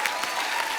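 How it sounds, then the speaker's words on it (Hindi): Loud, dense applause from a TV comedy show studio audience, continuous clapping filling the whole moment. "जोरदार तालियां"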